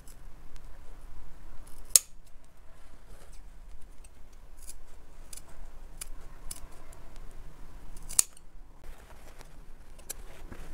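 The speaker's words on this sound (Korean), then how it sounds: "안을 째주시면 돼요. 가위로." Scissors snipping through jacket fabric while opening a chest welt pocket, with two sharp distinct cuts and soft rustling handling between them, close and fairly quiet, no talking.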